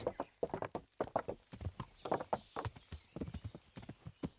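In Kingdom Come Deliverance, a ridden horse's hooves clip-clop in a quick, steady rhythm throughout, close and clear with no talk.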